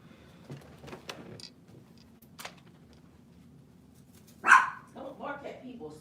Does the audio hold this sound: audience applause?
no